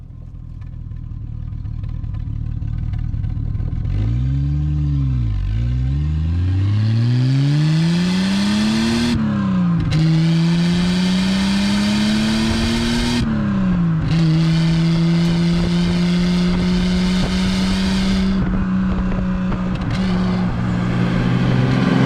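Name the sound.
Triumph 2500 PI car engine driving down road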